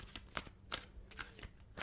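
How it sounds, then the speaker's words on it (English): Soft riffle-and-flutter bursts of a deck of tarot cards being shuffled, several quick papery snaps in close succession, quiet and close with no voices. "1 more shuffle for Aries."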